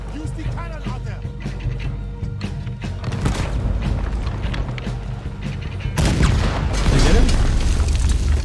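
A cannon fires in the Western video game Red Dead Redemption, giving deep booming blasts and rumbling impacts, with a louder burst near the end, mixed under excited talking.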